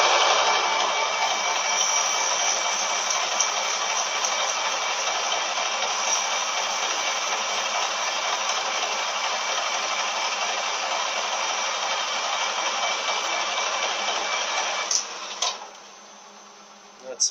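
Steady, continuous hissing abrasion of 600 grit sanding on a cast iron Powerglide transmission part runs for about fifteen seconds, then cuts off abruptly, leaving quiet.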